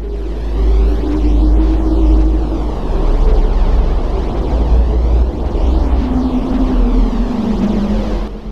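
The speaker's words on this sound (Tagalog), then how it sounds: "Ganito ang tunog ng Earth sa kalawakan." Sonified space recording of Earth, a continuous throbbing low hum with a rushing, hiss-like wash and slow wavering whistling tones drifting up and down, steady and fairly loud with no voices.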